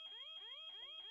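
Fire alarm in The Sims 4 sounding as three repeated rising electronic whoops, each a sweeping tone cycle, loud and steady with no talk.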